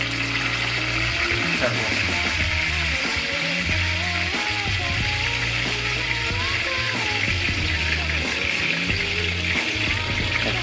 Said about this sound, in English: After that slow sizzle, which is great.